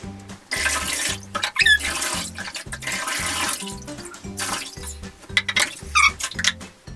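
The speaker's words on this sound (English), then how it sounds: "Now I'm going to take some water and just put it on his back." Tap water runs and splashes as it is poured over a dog's back during a bath, a steady wash of flow with intermittent bursts and trickles, close and fairly loud, with no talking.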